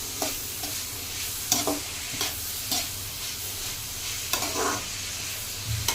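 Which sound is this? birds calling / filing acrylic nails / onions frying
onions frying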